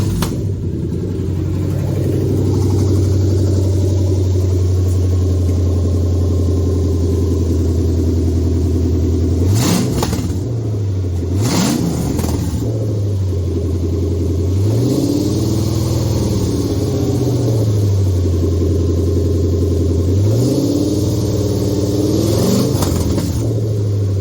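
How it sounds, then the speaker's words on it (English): A stand-alone Toyota 2UZ V8 fitted with an automatic gearbox starts and settles into a steady, loud idle, with several sharp revs rising and falling between steady idle stretches. "Okay, so let's give her a crank here."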